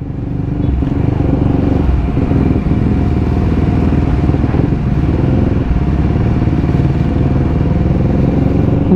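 A CFMoto 300SR motorcycle engine runs on unleaded fuel and tends to stall, even with the stock pipe; the close, loud engine chugs and clatters steadily throughout without speech.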